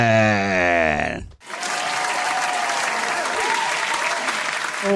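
An audience applauds and cheers loudly for author Linda Addison after a voice calls her up. The dense clapping and whoops keep going steadily.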